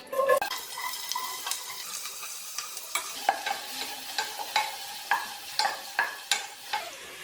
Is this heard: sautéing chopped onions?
yes